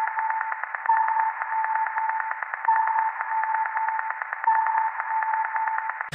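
A filtered, droning synth texture, resampled from heavy reverb and filtering for techno, sits in a narrow midrange band with a repeating pulsing shimmer and a brighter swell recurring every couple of seconds.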